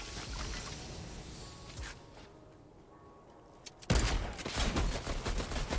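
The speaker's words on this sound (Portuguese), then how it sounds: "Ele mandou-me um tiro por baixo do chão e partiu-me o chão!" Bursts of rapid gunfire crackle early, fade to a lull, then erupt again loudly into a sustained barrage of shots.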